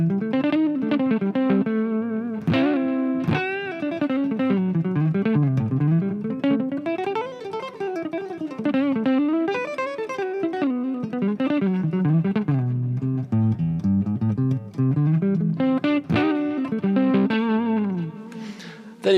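An electric guitar through a Line 6 POD Go plays a wandering melodic line, each note washed in heavy, lingering reverb that smears the phrases together.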